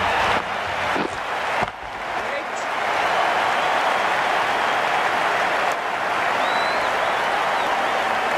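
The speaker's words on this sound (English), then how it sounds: "It's going to be hard for the bowler to focus with the crowd this excited." Cricket crowd in the IPL video game cheering after a six: a dense, steady roar of cheering and applause runs throughout, with game commentators talking over it.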